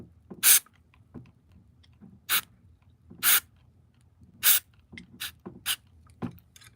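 Short hissing spray bursts are squirted into the workings of a Furby toy whose springs are rusted, about eight quick puffs at uneven intervals, close and crisp against a quiet background.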